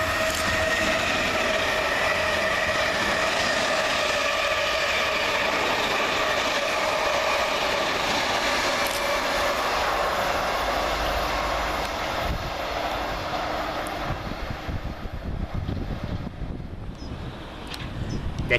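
A three-unit Class 450 electric multiple unit running fast southbound through Surbiton station, a loud steady roar and high electric whine that hold for most of the pass and then give way to rattling wheel and track clatter near the end.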